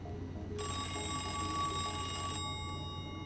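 A red telephone in the horror game Missing rings with a loud, steady electronic bell tone that starts abruptly and holds for about two seconds before cutting off, over a low droning background.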